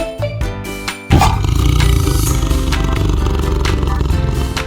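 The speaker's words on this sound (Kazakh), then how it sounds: "Бұл жолбарыстың дауысы." A tiger lets out a loud, close roar after a short burst of clatter, the deep rumbling roar sustained for several seconds with no voices.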